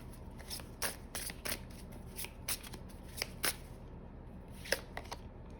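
Slippery tarot cards are shuffled by hand, giving a close, quiet series of crisp riffling flicks at an irregular rhythm over soft room hiss.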